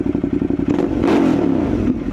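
A Yamaha motorcycle fitted with a loud aftermarket exhaust revs up close by, a steady low rumble swelling into a louder, rougher roar partway through and holding there to the end.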